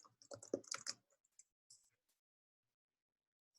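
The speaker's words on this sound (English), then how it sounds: "just typing out the title here for you." Faint, quick clicks of keys being typed in a short burst, with a couple of scattered taps afterward before falling quiet.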